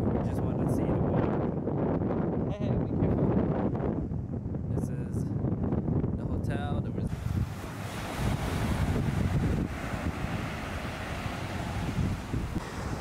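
Surf washes onto a Turks and Caicos resort beach in a steady, loud roar, with wind buffeting the microphone and voices talking over the first half.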